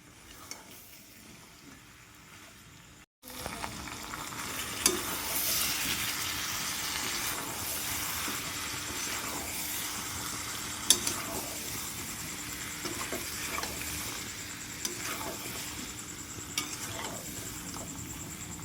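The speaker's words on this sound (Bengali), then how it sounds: "অবশ্যই একটু নেড়ে চেড়েই কষাতে হবে যেন কোনোভাবে কড়াইয়ের তলায় লেগে না যায়" Mutton curry with potatoes being stirred and fried in a wok: after about three seconds of near quiet, a loud, steady sizzle begins and runs throughout, with scraping stirs and occasional clinks of a utensil against the pan.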